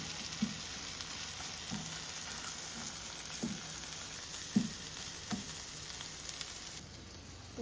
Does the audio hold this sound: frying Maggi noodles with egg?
yes